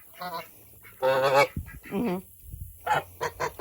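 Angry geese honk loudly and close by, several harsh, nasal calls coming in uneven bursts with brief gaps between them.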